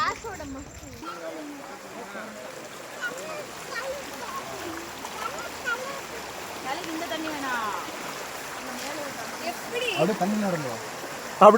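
Mountain spring water trickles and flows across a walking path in the Javadhu Hills, a continuous close babbling with small splashes while people talk over it.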